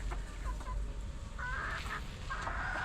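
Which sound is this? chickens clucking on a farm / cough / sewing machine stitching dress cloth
chickens clucking on a farm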